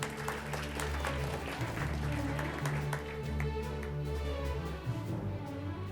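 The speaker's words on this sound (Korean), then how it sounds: "다시 한번 큰 박수로 맞이해 주시기 바랍니다" Audience applause at the awards ceremony of a court advocacy competition, a continuous, moderately distant patter of many hands lasting throughout with a faint tonal hum underneath.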